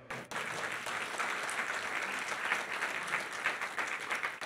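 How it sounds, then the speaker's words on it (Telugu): A church congregation at a Friday morning worship service in Doha, Qatar, claps together in sustained, even applause that starts abruptly and holds at moderate loudness throughout. "కొట్టండి గట్టిగా చప్పట్లు."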